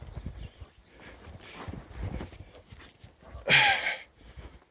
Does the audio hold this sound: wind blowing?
no